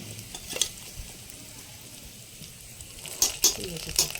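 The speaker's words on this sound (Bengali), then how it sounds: "তেলটা গরম হয়ে গেছে জিরে আর গোটা লঙ্কা তো আমি দিয়ে দিয়েছি এবার আমি মাংসটা মুরগির মাংসটা আমি দিয়ে দিচ্ছি" Chicken pieces go into hot oil with cumin and whole dried chillies for a village-style curry, giving a soft, even sizzle with a few sharper crackles and pan knocks near the end.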